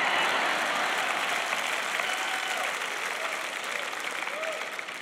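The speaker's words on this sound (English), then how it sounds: "If you're going to clap, clap." A church congregation at a Joyce Meyer sermon breaks into steady, dense clapping that fills the room and tapers slightly toward the end, with faint voices mixed into the wash.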